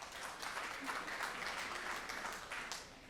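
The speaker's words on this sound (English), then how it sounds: "Please clap if you think that was Sam Alito." Scattered audience clapping at a live podcast taping in Washington, DC, moderate and steady throughout, fading slightly at the end.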